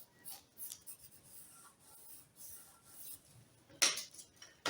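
Scissors cut through stacked fabric pieces for a ruffled gown, giving faint, intermittent snips and rubbing sounds close by, with a couple of sharper crisp cuts near the end.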